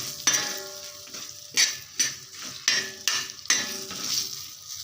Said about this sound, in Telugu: వీటికి బాగా కలిపేలాగా కలుపుకోవాలి కలిసిపోయేలాగా మొత్తం